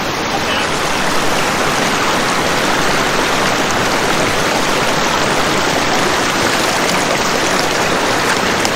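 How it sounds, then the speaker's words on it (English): Water rushes through a gold sluice in a steady, loud, broadband wash that continues unbroken for the full stretch, close by, with no talk over it. "Gonna do some sluicing."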